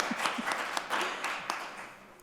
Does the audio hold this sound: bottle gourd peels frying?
no